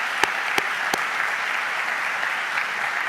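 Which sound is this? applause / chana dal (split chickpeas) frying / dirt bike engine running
applause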